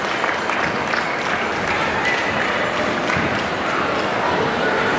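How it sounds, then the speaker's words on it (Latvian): At a pet expo breed demonstration in an indoor hall, the audience keeps up steady, moderate applause, with a few dog yips cutting through the clapping. "Vēlreiz aplausi un paldies!"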